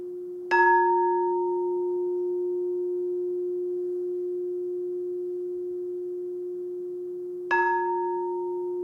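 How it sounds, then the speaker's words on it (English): A meditation bell rings twice during a Sunday service, each strike a clear, pure tone that sustains and slowly fades, the second strike following about seven seconds after the first in an otherwise quiet room. "And so as the sound of the bell recedes,"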